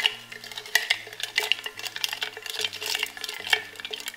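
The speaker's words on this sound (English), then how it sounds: "So I wanna keep stirring, because it's gonna start to heat up" A goat's milk soap mixture being stirred in a pot, close repeated scraping and clinking of the utensil against the container in an uneven rhythm.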